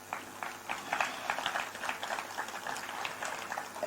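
Audience at a tribute ceremony in Guadeloupe for a late filmmaker claps softly and steadily, a faint, moderately distant patter of many hands with no voices over it.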